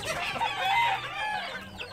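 Young gamecock chicks cluck in a continuous soft chatter, close and moderately loud, with no talking.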